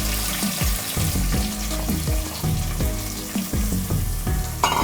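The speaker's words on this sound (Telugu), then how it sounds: "ఆనియన్ ఈ ఆయిల్లో బాగా ఫ్రై అయిపోవాలి." Chopped onions and green chilies fry in hot oil for a fish pulusu tempering, giving a close, continuous sizzle broken by repeated stirring scrapes and clatters against the pan.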